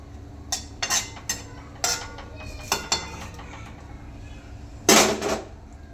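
Chicken curry being stirred in a pot after tomatoes and a little water go in, with a spoon scraping and knocking against the metal in several short, close taps, then a louder clatter near the end.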